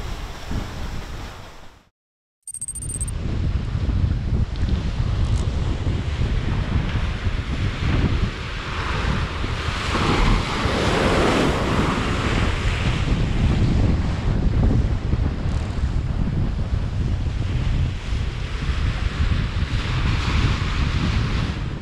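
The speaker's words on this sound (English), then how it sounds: "It's hard to tell on camera just how big these rolling waves are." Rolling ocean waves and strong 23-knot wind off the Somali coast batter a sailboat at sea, a loud continuous roar of surf and gusting wind noise after a brief silent gap near the start.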